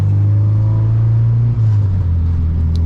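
Honda Civic EK hatchback with an H2B engine swap driving, a loud steady engine drone with low rumble holding an even pitch throughout, close and continuous with no talk.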